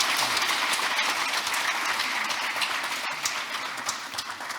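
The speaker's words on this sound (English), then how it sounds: "Please give them a big round of applause." Applause from the audience at an international banking conference fills the room as steady, dense clapping that tapers slightly toward the end.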